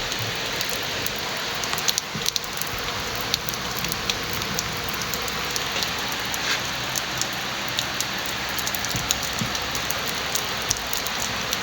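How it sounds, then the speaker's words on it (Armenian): Steady rain falls at night, a dense, even patter of drops on surfaces that continues unbroken at close range with no voices. "Անձրևից լավ փախանք"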